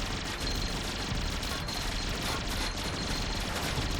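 An orbital cannon fires in the video game Greedland, a dense, continuous barrage of rapid blasts and rumbling impacts that stays loud and unbroken throughout.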